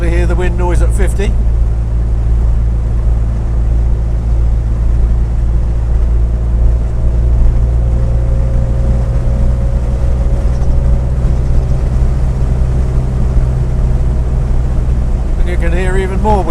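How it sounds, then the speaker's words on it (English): Steady low wind roar and engine drone inside a Triumph Herald 13/60 convertible cruising at 50 mph, a constant rushing noise with someone talking briefly at the start and end. "We certainly hear the wind noise at 50."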